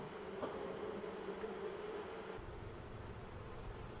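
Honeybees buzzing in a hive box in spring, a faint steady drone of wings held at low level for the whole stretch.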